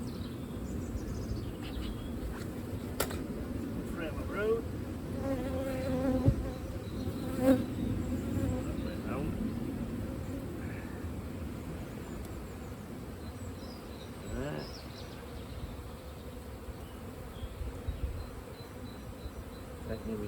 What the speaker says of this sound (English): And these are all young bees.